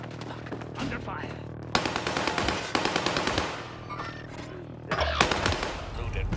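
Gunfire in the video game Call of Duty: Modern Warfare comes as loud, close bursts of rapid automatic shots with brief gaps, alongside faint in-game voice chatter.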